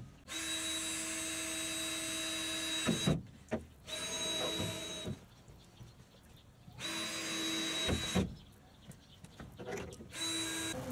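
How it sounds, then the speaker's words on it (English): Loud whining power drill bursts, several long runs separated by pauses with clunks and handling noises between them. "I just got to drill some holes"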